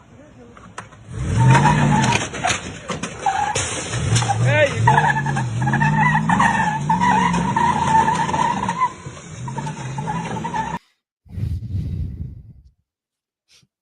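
A truck engine revs hard while its tires skid and squeal for several seconds, loud and close, with someone speaking briefly over it before a sudden cutoff and a short final burst.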